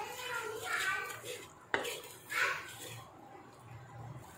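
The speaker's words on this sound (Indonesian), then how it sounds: "Oke, kita aduk." Sweet and sour crab sauce being stirred in a pan, with soft scraping and clinks of a utensil against the pan and a sharp knock partway through, fairly close and moderately quiet.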